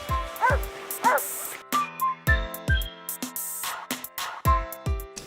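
An avalanche rescue dog in training at a mountain ski area barks and yelps repeatedly in short bursts, close and loud, with excited whimpers between the barks.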